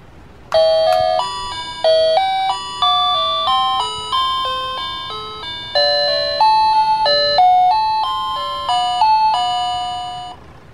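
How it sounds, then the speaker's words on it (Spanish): A Steren wireless doorbell chime plays a repeating melodic ding-dong tune, bright and clear, with each note struck and decaying in a steady rhythm that runs for about ten seconds. "Vamos a utilizar un timbre inalámbrico en este caso voy a utilizar un steren."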